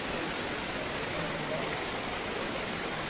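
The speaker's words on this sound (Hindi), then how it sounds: "सुबह से बहुत बारिश लगी हुई है" Steady rain falls on the Vaishno Devi pilgrimage path in cold weather, a dense, even hiss that continues without a break and stays loud and close throughout.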